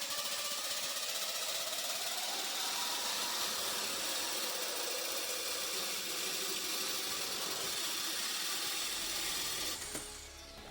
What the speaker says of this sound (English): I smoothed out the edges with a bench grinder